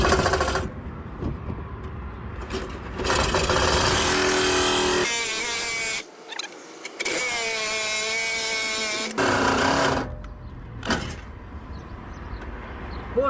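A power saw cuts during installation of a Stage 3 Motorsports larger tire kit with spacers, making several loud, whining cutting bursts separated by short pauses and quieter clinks.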